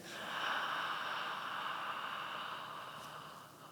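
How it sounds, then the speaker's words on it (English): A long, slow inhalation during a breathing exercise, a soft airy hiss swelling and fading over a few seconds, faint and close with no talking. "Breathing in"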